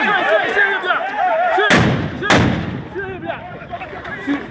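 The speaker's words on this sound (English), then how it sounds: "South African police are shooting us." Police fire gunshots at a street protest in South Africa: two loud, sharp bangs about half a second apart cut through a crowd's shouting and chatter, which continues throughout.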